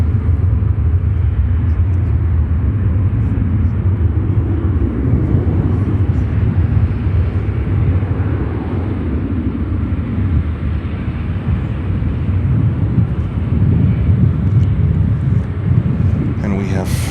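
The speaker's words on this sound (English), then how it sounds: "That's the Austrian 787-9 Dreamliner with service from Vienna." An Austrian Airlines 787-9 Dreamliner from Vienna at O'Hare gives a steady, loud, low jet roar that rumbles on without a break.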